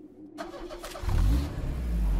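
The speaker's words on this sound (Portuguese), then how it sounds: "Vou pegar esse carrinho." A car engine in the battle royale video game Knives Out cranks and catches, then settles into a loud, steady low rumble that swells and holds. There is no talking.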